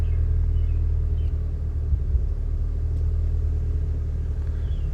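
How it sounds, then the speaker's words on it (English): An idling car engine gives off a steady low rumble while a new ECU tune loads, a constant deep drone with only faint irregular flutters and no clear stall. "my car's gonna burp because I'm loading a new tune"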